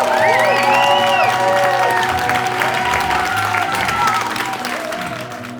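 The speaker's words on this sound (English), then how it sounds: "please join me, if you could, in a round of applause for the man, the myth, the legend, my Dad" Loud applause and cheering fill a wedding reception for the father of the bride at Michelham Priory, with whoops and shouts rising over dense clapping that holds steady for several seconds and eases slightly near the end.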